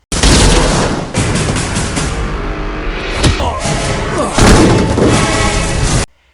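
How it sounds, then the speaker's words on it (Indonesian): An airplane explodes in a loud blast with booming thuds and crackling bursts, dense and sustained for several seconds before cutting off abruptly. "pesawat tersebut meledak"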